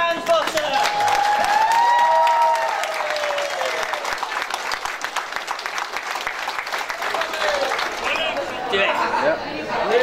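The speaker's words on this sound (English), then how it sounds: "give a massive round of applause to the new Mr." A large wedding crowd applauds the newlyweds steadily for about ten seconds, with cheering, whistles and chatter mixed into the clapping.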